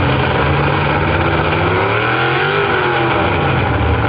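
A pulling vehicle's engine revs hard and loud at a truck and tractor pull as it drags the sled, a steady dense roar with a pitch that sags and climbs again midway, close up with no talk.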